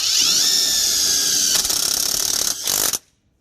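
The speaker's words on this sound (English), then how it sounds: "everywhere that there's not a already a hole in the frame, you're running a self-tapping with one of those big black washers" A power drill drives self-tapping screws with large black washers into the frame of a 2020 Kawasaki KRX Teryx side-by-side, a loud steady whine for about three seconds with a brief dip near the end before stopping.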